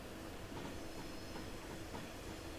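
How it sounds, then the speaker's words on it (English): Rolling train in Train Simulator 2022, a steady rail rumble with faint rhythmic clickety-clack of wheels crossing track joints, heard from inside the carriage, quiet and continuous with no voices. "Awesome track joint sounds."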